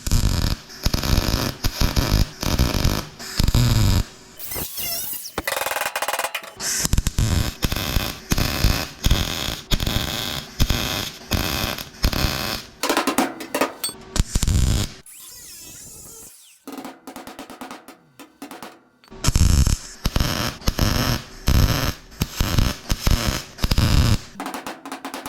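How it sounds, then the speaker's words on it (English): Bursts of welding crackle on a rust repair panel being fitted to a 1957 oval-window VW Beetle body, loud and close, coming in uneven stop-start runs with short pauses and one longer quiet gap. "I've got this side here to weld in as well"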